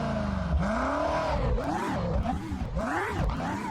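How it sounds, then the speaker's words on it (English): A car's sport exhaust revs in repeated rising and falling surges, a close, throaty roar swinging up and down in pitch for a few seconds. "let's take a listen to the sport exhaust on"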